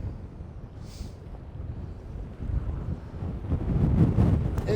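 Strong gusty wind buffets the microphone on the bank of the River Trent, a continuous rushing roar that swells louder toward the end, with no talk.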